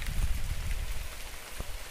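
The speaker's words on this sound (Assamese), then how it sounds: "এতিয়ালৈকে বৰষুণ কমা নাই" Steady rain falls outdoors in Assam, a soft continuous patter on surfaces around someone sheltering under a tree. It stays fairly quiet and even, with no voices.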